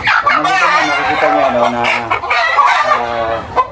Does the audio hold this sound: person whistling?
no